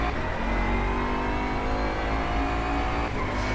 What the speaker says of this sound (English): you can definitely tell there's a V8 under the bonnet